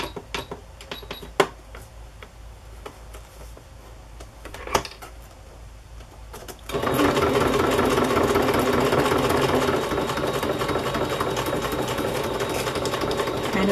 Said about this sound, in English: I think I'll just do a straight stitch for this